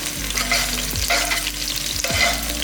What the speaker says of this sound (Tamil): இந்த ஒரு பெரிய வெங்காயத்தை இதில் போட்டுடலாம்.